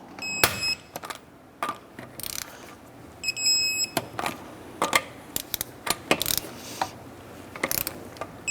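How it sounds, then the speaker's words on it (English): Torque wrench tightening the front wheel lug nuts of a 2006-2013 Chevrolet Impala to 100 foot-pounds, giving a series of sharp ratcheting clicks in irregular bursts, close and fairly loud, with no talk. "And torque down our wheels to 100 foot-pounds."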